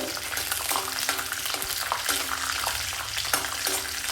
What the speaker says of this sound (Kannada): ಈಗ ಎಣ್ಣೆ ಚೆನ್ನಾಗಿ ಬಿಸಿ ಆಗಿದೆ. ಈ ಟೈಮಲ್ಲಿ ಕಡಲೆ ಬೀಜನ ಸೇರಿಸ್ತಾ ಇದ್ದೀನಿ